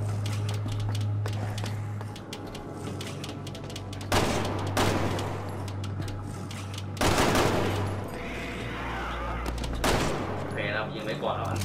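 Gunfire aimed at a dog in Resident Evil 6, several loud bursts and single shots ringing out amid a low game hum, close and punchy, with someone talking over parts of it.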